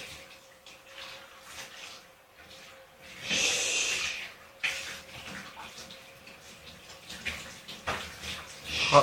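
Water runs and splashes in a bathtub while an animal is washed, a soft hiss that surges loudly for about a second and then returns in shorter bursts, with faint breathing and little talk.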